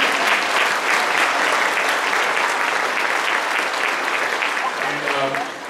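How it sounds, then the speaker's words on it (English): Applause fills a school spring concert hall, a long steady wash of clapping from a large audience, with a voice starting to speak over it just before the end. "Give a round of applause for those awesome folks"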